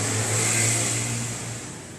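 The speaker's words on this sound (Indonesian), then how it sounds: "Jika baut ini kita sentuh, motor akan nyala." A motorcycle engine with a touch-sensor bolt anti-theft starter idles and revs steadily, close and fairly loud, the tone easing slightly toward the end.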